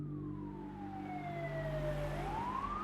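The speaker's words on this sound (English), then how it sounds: "The ambulance arrived and paramedics took over for the doctor, trying to keep Rusty alive." An ambulance siren wails close by, its tone sliding slowly downward and then rising again over a low engine rumble, with no voices.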